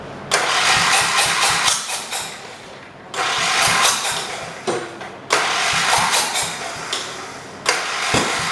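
A 1978 John Deere 208 lawn tractor, idle for three years, cranks and fires in repeated bursts, its engine roaring loud and close in three long runs with brief pauses between them.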